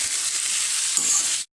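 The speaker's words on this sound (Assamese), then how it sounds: "আৰু এতিয়া এইখিনি অকণমান মই তেলত ভাজি ল'ম।" Crushed garlic and ginger with spices fry in hot oil for an Assamese dhekia greens recipe, a steady close sizzle that cuts off abruptly at the end.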